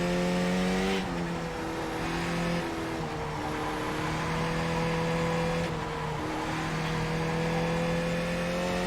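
A Skip Barber race car engine drones steadily in iRacing, revving and shifting through gears with a continuous loud whine and brief dips at each change.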